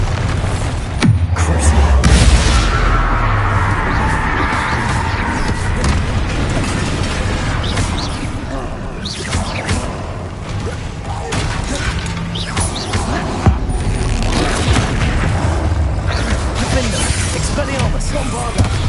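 Bombarda spell blasts in Hogwarts Legacy on PS5 boom repeatedly through a busy fight, with heavy low thuds and crashing debris under a steady wash of combat noise and a voice calling out.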